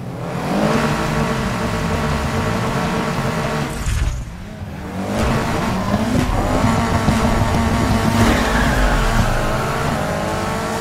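Race car engines in the video game Need for Speed Heat, loud continuous revving with rising and falling pitch through gear changes, tire squeal and a brief dip mid-way, dense and close.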